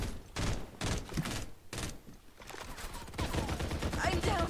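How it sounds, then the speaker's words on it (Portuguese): Rapid gunfire from two teams shooting in the video game Far Cry 5 comes in dense repeated bursts, loud and continuous across the moment. "tem dois times me atirando"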